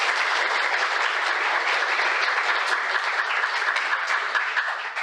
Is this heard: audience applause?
yes